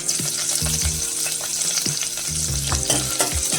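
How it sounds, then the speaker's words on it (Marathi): Curry leaves crackle and sizzle in hot oil, a tempering for Malvani pomfret chutney, with a loud, continuous frying hiss broken by the repeated clinks of a stirring spoon against the pan. "कढीपत्ता फोडणीला टाकते।"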